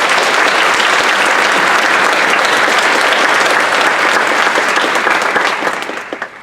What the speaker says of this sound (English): I would like to first have a round of applause.